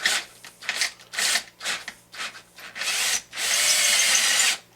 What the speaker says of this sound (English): we're just going to slowly drill it